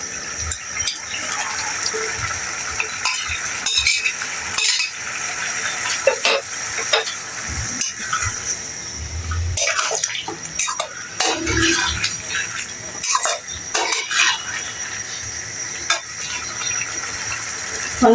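Fried chicken pieces tipped into a pan and stirred for chicken curry: steady hissing sizzle with repeated scraping and clattering stirs, close and fairly loud, no talking.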